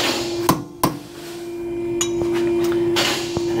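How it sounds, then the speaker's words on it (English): A hammer strikes a blunt chisel to stake metal on a 2017 Kia Niro: a few sharp, ringing metallic taps, spaced irregularly, close and fairly loud with a lingering tonal ring. "A blunt chisel, my hammer."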